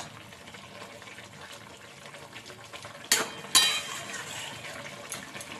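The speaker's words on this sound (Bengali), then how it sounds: "এই দেখো ফুটে গেছে" Mustard greens curry (sarson saag jhol) simmering in a pot, a steady low bubbling hiss with two sharp clattering knocks of a utensil partway through, no talking.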